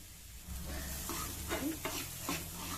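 Moong dal frying with turmeric in a pan for kachori, a steady sizzle with a few distinct scraping stirs of the spoon, close and without talk.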